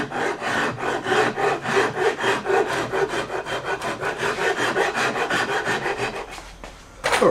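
A rasp or file rubs rhythmically over the back of a wooden Stratocaster guitar neck, with steady back-and-forth strokes about twice per second, close and even, pausing briefly near the end.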